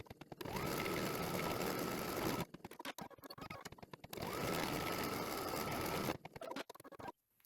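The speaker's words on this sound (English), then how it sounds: "The first stitch that we are going to run is going to be the placement line for our batting." An embroidery machine stitches the placement line for batting on an in-the-hoop Easter bunny wall hanging, giving two long runs of steady close whirring and rapid needle rattle broken by a short pause of small clicks and thumps.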